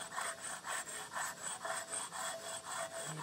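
A carborundum block is rubbed back and forth along a wooden edge to round the arris, making close, steady rasping strokes in an even rhythm of about a dozen passes, with no speech.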